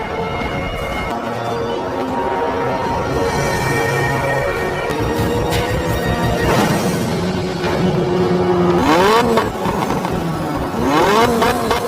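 Cars rev and accelerate hard off the line at the start of a downhill mountain race, engines roaring loudly with rising pitch sweeps and layered revving, no talk over them.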